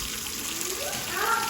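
Hot tap water runs steadily into a plastic brewing bucket while a brown ale is being brewed from a beer kit, making a continuous broadband gush that swells slightly near the end, with faint voices in the background.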